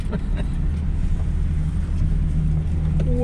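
A four-wheel-drive vehicle labours up a small forest hill, its engine giving a loud, continuous low rumble with some wind noise and no voices.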